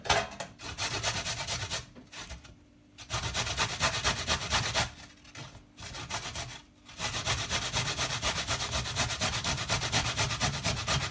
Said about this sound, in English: So I'm just going to grate this little piece of ginger right now.